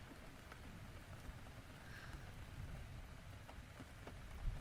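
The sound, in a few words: rain falling, ambient sound in a Genshin Impact comfort audio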